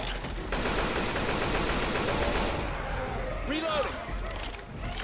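Rapid machine gun fire rattles in the Left 4 Dead 2 Helms Deep Reborn mod, dense continuous bursts filling the first few seconds before thinning out into scattered shots.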